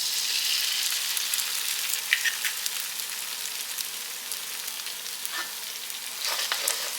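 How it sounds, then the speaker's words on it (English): An egg cracked into the center of a pan of hot oil sizzles steadily and close up, a bright hiss with a few louder crackles and spits, no talking. "I'm going to break it right in the center of the pan."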